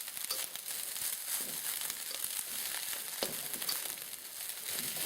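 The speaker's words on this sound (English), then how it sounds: "Fry the rice with your eggs." Cooked rice and eggs fry together in a pan for char siu fried rice, giving a soft, steady sizzle with light crinkly stirring sounds, fairly quiet and without speech.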